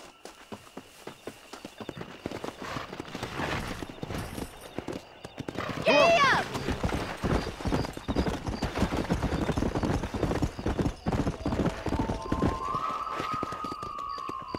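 Horses gallop in Red Dead Redemption with a fast, steady clip-clop of hooves throughout, joined by a loud neigh partway through and a siren-like tone near the end, while people talk over the riding.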